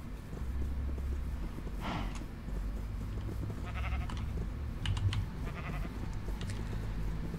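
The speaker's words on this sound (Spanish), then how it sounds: "aquí tengo un montón de ovejas" Sheep in Minecraft with the IndustrialCraft mod bleat several times over a steady, busy in-game background, their short wavering cries fairly close and moderately loud, with no talk.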